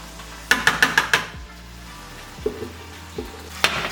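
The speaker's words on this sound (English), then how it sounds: "We're gonna put my tomato in this pan." Tomatoes going into oil in a pan, a quick burst of five sharp metallic clinks followed by a low sizzle and a few scattered utensil taps, close and without speech.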